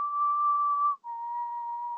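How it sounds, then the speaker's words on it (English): A creepy two-note whistle performed by a man, a steady high tone that dips briefly and then holds a slightly lower pitch, close and clear with no other sound. "it's just like a creepy whistle"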